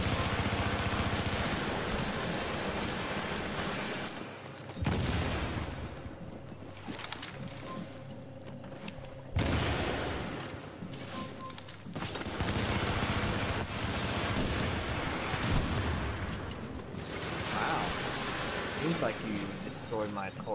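Rapid bursts of gunfire in the video game Rogue Chronicles crackle in dense volleys, broken by brief pauses, under an engine-like drone, with people talking excitedly throughout.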